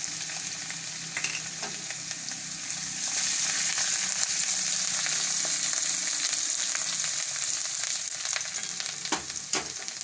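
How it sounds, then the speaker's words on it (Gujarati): Cumin seeds, garlic and ginger dropped into hot oil for a stuffed capsicum curry crackle and sizzle steadily and close up, growing slightly louder after the first few seconds. "તો આપણું તેલ ગરમ થઈ ગયું છે. તો પહેલાં આપણે જીરું નાખી દેવું. અને આ આપણે લસણ નાખી દેવું. અને આદું નાખી દેવું."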